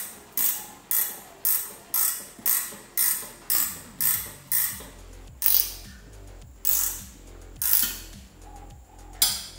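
A ratchet wrench clicks in a steady run of about a dozen evenly spaced bursts, close and loud, tightening the center stud on a VY Ecotec V6 plenum, then slows into a few irregular pulls.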